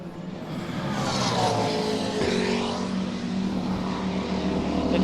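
A Lamborghini GT race car drives around a circuit during a South African GT race, its engine a steady, sustained roar that swells slightly and holds at a constant distance.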